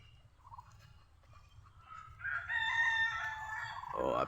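A Pekin duck calls with a loud, harsh honking burst near the microphone after a quieter stretch of faint background noise, then a sharp final squawk.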